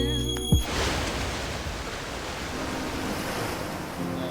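Ocean surf at South Mission Beach washes in as a steady, broad rushing hiss with wind noise on the microphone, a short clatter near the start and a faint tone late on.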